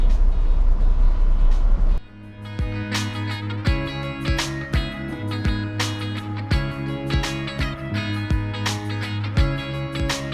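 Maharashtra State Transport (ST) bus on the Malshej Ghat road, engine droning steadily with repeated sharp knocks and rattles throughout, loud and close from inside the cabin after an initial burst of wind-like noise.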